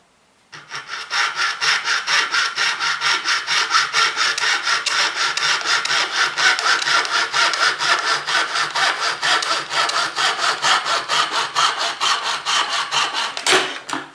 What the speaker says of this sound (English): with my super duper mini hacksaw, I am going to